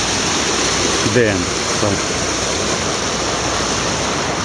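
Broad steady rush of the Weiser River pouring over a diversion dam spillway at high flow, continuous and close, with someone briefly speaking over it.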